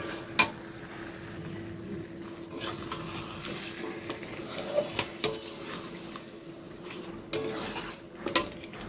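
Marinated chicken being stirred in a cooking pot, with scraping and light clinks of a utensil against the metal over a faint steady sizzle, the strokes coming at irregular intervals close by.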